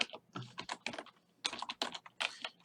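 Rapid typing on a computer keyboard while writing Excel VBA code, crisp close key clicks in quick irregular bursts with short pauses between them.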